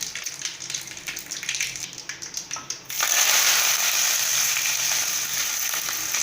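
Mustard seeds, chana dal, onion and curry leaves frying in oil for banana stem pulao: crackling spatters at first, then a sudden loud, steady sizzle as the onion and leaves hit the hot oil.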